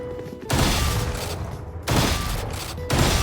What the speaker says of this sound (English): And if right click for slug shot,